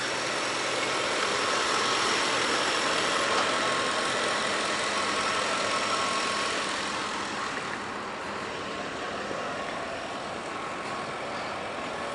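A steady Ford Crown Victoria engine idling nearby, a broad constant rumble and hiss that drops slightly partway through, with no talking.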